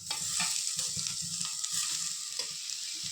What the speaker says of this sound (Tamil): இப்போது நம்ம இதில் உருளைக்கிழங்கை ஆட் பண்ணிக்கலாம்